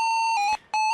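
Bright, square-toned computer beeps from a PC speaker as emulated in DOSBox, in two short bursts separated by a brief gap, thin and electronic like an old PC speaker.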